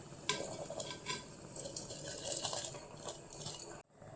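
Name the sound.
stirring rice in a pot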